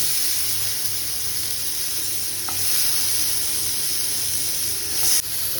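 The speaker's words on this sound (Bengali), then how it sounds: "এর মধ্যে আমি সবজিগুলো তুলে দিলাম।" Continuous loud sizzle and hiss of vegetables frying in hot oil, steady throughout with a brief scrape near the end.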